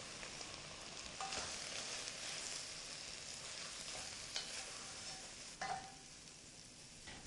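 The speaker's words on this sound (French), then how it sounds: "on va ajouter la farine, bien mélanger et la laisser cuire quelques instants pour faire ce qu'on appelle un roux brun" Flour is stirred into browned onions and garlic in a hot pan to make a brown roux, giving a steady close sizzle with scraping stir strokes and a few sharper clinks, and no voices.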